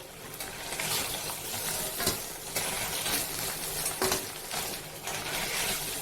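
Paneer cubes frying in hot oil in a wok, a steady close sizzle with occasional scrapes and clinks of a spatula against the pan, no talking.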